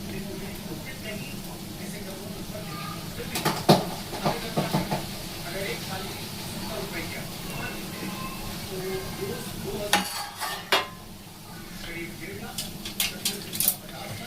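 Jaggery-syrup sweets cook in oil that began nearly cold, over a low flame, giving a soft, continuous frying hiss with occasional sharp clinks of a utensil against the pan, while a person talks over it.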